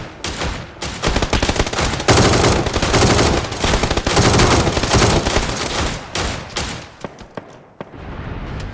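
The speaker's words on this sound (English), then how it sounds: "still getting shot at from that same hill" Automatic gunfire rattles through a PUBG match in loud, rapid bursts, dense volleys for several seconds that then break into sparser single shots as the shooting tapers off.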